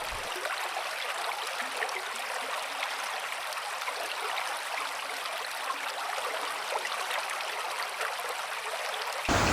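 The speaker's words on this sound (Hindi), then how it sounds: "वाटर की काफी बड़ी स्ट्रीम हमें दिखने लगी है" Large mountain stream rushing near a waterfall in Shangarh, Himachal Pradesh, a steady broadband roar of flowing water filling the whole stretch, close and even, with no voices.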